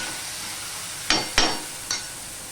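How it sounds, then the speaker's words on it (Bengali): Hot water added to simmering sour dal (tok dal) on an induction cooker, giving three short, sharp sizzling splashes over a quiet steady hiss, with no talking. "এই দেখো আমি এখানে গরম জলটা দিয়ে দিচ্ছি"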